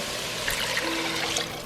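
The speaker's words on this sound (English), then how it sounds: "I am going to add in 2 cups of water, 6 cups of chicken stock, and my frozen chicken breast" Water and chicken stock are poured into a cooking pot of softened onion in a home kitchen, giving a brief steady splash and trickle of liquid heard close up.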